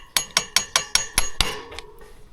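Hammer blows on a motorbike's brake parts during a roadside repair, six sharp metallic strikes in steady rhythm followed by a lighter tap, close and ringing with no talk.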